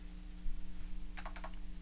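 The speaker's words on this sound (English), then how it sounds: "I'm trying to type and find this doggone article" Someone types on a computer keyboard, a quick burst of several clicky keystrokes that comes in the second half over a steady low electrical hum, close by and with no talking.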